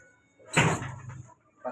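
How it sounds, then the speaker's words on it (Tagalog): A door is pushed shut indoors, giving one solid thump with a short rattling tail, followed by a brief faint sound. "Ngayon, isara natin yung pinto."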